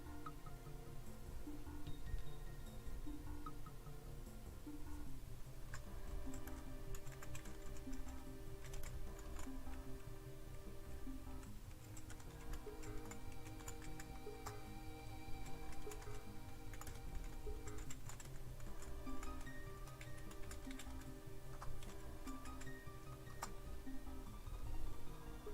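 Steady typing on a computer keyboard, a continuous patter of soft key clicks heard up close and fairly faint, with low background noise and no talking.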